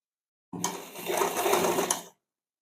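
A sewing machine runs a short stitch on a blouse front panel near the tucks, one close burst of whirring lasting about a second and a half and then stopping.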